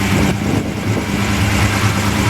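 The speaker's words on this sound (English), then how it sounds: "I got the idle a little bit too high, so I have to adjust that" A 1969 Ford XW Falcon engine idling fast and steady, with the idle set too high, a continuous mid-pitched hum with low throbbing that holds level throughout.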